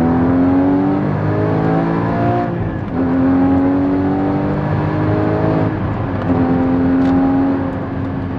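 Porsche Cayman GT4 (981) engine revving hard, three rising climbs in pitch through the gears, each cut by a brief dip at the shift, loud and close from inside the car with no talking.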